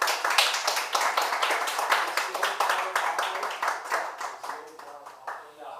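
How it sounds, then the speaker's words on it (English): An improv show audience claps in a sustained round of distinct, rapid hand claps, close and fairly loud, gradually thinning and fading toward the end. "So another round of applause for that story."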